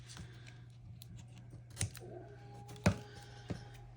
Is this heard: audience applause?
no